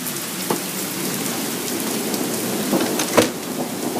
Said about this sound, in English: Storm's still going.